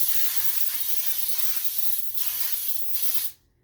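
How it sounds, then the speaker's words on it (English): A steady hiss of aerosol cooking spray on a cookie sheet, held for about three seconds with a couple of brief dips, then cut off abruptly. "spray on your cookie sheet"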